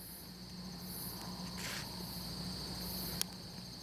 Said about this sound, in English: Did you hear those frogs?